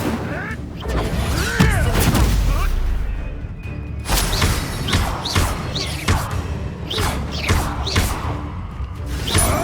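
Video game fire spell cast with a shouted incantation, followed by heavy booms, crashes and rapid blasts that carry on for several seconds over a dense action soundtrack.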